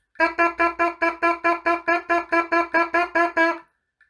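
A trombone player buzzes into the mouthpiece with firm lips in first position, sounding about fourteen short, evenly spaced buzzy notes of equal length in a steady quaver rhythm, close and alone.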